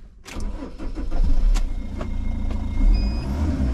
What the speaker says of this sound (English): So now we'll just try the key in the ignition, see if the van starts.